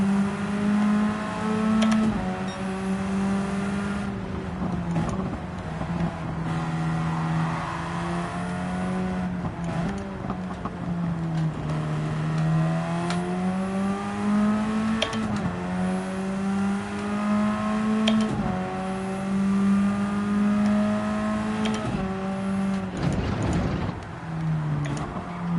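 Radical race car engine howling around the Nürburgring Grand Prix circuit in Gran Turismo 7, a steady loud drone that rises and falls through gear changes for the whole stretch, with no talk over it.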